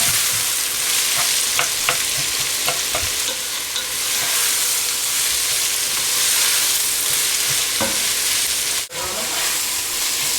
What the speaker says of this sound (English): So you just mix the onions in with all the stuff that we put earlier.